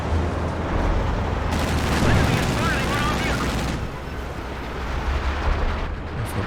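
Artillery base barrage in Company of Heroes 2 exploding in a dense, continuous rumble of blasts and gunfire, loud and sustained, with a brief whistling streak in the middle and a live game commentator talking over it.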